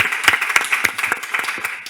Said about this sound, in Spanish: Pues un aplauso muy fuerte.